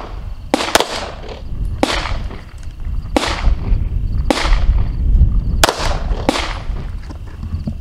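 A handgun braced on a steady rest fires about half a dozen sharp, loud shots at an outdoor range, evenly spaced roughly a second apart with echoing cracks.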